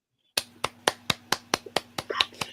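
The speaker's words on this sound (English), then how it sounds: "Golf clap" A golf clap of about ten quiet, evenly spaced hand claps, close by and polite, with a faint murmur of voices near the end.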